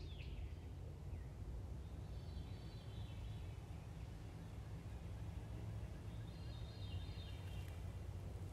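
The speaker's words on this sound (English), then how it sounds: "A whippoorwill just started singing." A whip-poor-will calls faintly in the distance, its phrase repeating twice over a steady low rumble of background noise.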